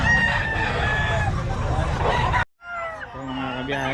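Roosters crowing at a busy chicken market, one long loud crow over crowd babble, then a break and nearer crowing and clucking with people talking.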